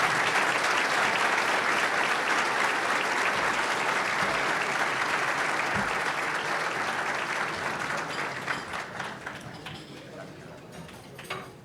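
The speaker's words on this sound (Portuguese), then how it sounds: "recebam, por favor, com uma salva de palmas, nosso homenageado, ministro Barroso" Sustained applause from a seated audience at a lunch meeting of São Paulo lawyers, honoring Minister Luís Roberto Barroso; the clapping stays dense and steady, then thins and fades toward the end.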